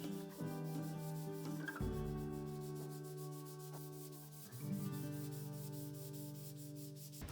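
Light sanding distresses wooden seats, heard as soft, continuous rubbing and scraping strokes close by, with a steady hum running underneath.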